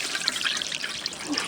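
Water pours and trickles into a farm animals' water container during an ice storm, a close, steady splashing stream lasting the whole moment.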